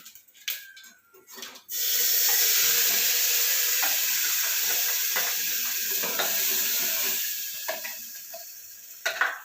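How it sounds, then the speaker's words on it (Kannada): Ground masala paste frying in a pan: after a couple of seconds of clatter, a loud, steady sizzle sets in close up and holds, fading slightly, with occasional stirring scrapes. "ಇದೊಂದು 2 ನಿಮಿಷ ಫ್ರೈ ಮಾಡೋಣ"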